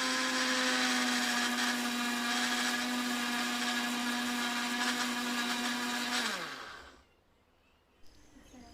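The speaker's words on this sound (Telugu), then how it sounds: "మిక్సీ అయితే పట్టాను" A kitchen mixer grinder whirs loudly while grinding turmeric into powder, a steady high motor whine for about six seconds that then spins down and stops, leaving near silence and a small clack.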